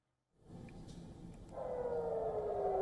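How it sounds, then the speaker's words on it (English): A distant air raid siren in central Israel wails, a steady rising-then-falling tone that grows louder partway through over a low rumbling background. "Air raid sirens sounded over a wide swathe of central Israel"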